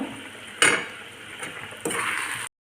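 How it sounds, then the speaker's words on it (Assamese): Spoon stirring jackfruit curry with meat masala in a cooking pan, giving a few scraping, clinking strokes against the metal over a faint sizzle, close by with no talking. "গোটেইখিনি এতিয়া মিক্স কৰি লওঁ।"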